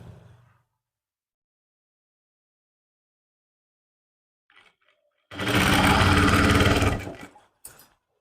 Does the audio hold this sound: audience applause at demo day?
no